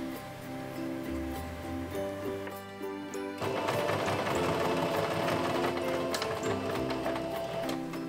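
Cosplay bodice pieces run through a sewing machine, a quick rhythmic stitching chatter heard over background music, growing louder and busier partway through and continuing steadily to the end.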